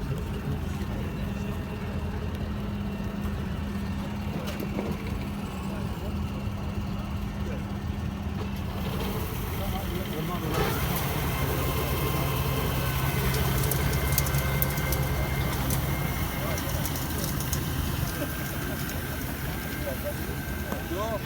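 A tractor pulling a twin-rotor rake works across a grass field, its steady engine drone and rotor hum running continuously at moderate distance, with people talking over it.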